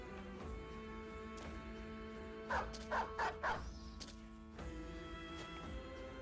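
Dogs in the Battle Brothers video game, chasing down a fleeing party on a snowy road, let out a quick cluster of four sharp barks midway through, set over a steady low game soundscape and music.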